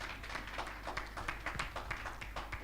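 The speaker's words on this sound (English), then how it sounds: "A round of applause for her." Scattered applause at a teacher bank mobile app launch event, a modest crowd clapping unevenly at a distance, fairly quiet and sustained throughout.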